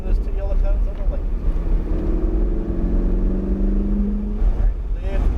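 A Ferrari accelerates around a cone-marked driving course, engine note climbing steadily with rising harmonic tones over a constant low rumble, heard close from inside the car.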